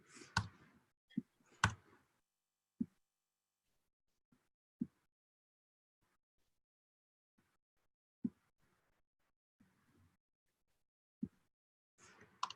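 Sparse keyboard typing in a quiet room: isolated, sharp key clicks spaced irregularly a second or more apart, a few louder taps near the start and end, with near silence between them.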